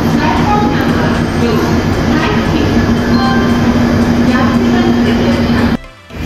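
Kamrup Express pulls out of Guwahati station with a loud steady rumble and a sustained tonal hum, heard from on board, before cutting out abruptly near the end.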